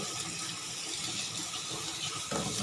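Food is washed under running tap water in a sink while bamboo shoots are prepared for curry, a continuous near splashing gush with a brief surge toward the end and no talk.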